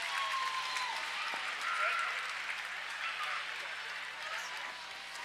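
Crowd at a roller derby doubleheader applauding the skaters, a dense wash of clapping and cheering heard from a distance, fairly faint and steady throughout.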